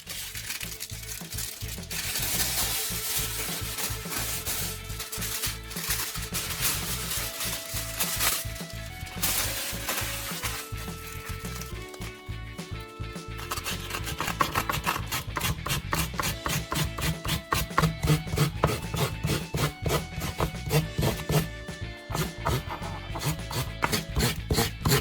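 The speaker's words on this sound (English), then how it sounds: "switch to a small piece of aluminum foil. Rub it over the surface of the bit to remove light rust and fine burrs" A small piece of aluminum foil is rubbed back and forth over a metal drill bit to clear light rust and burrs, making a continuous close, gritty scratching with a quick rhythm.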